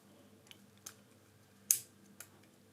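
A CPU air cooler mounting clip snaps into its bracket, heard as several small, sharp plastic clicks spaced apart in a quiet room, with one distinctly louder snap in the middle.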